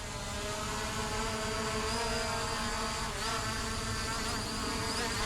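An Oddire HK11 camera drone flies outdoors, its rotors giving a constant buzzing whine, steady and fairly near with slight pitch shifts as it maneuvers.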